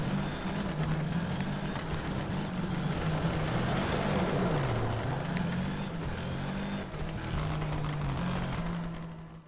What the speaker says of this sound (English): you'll really hear the car engine labouring here as it sort of struggles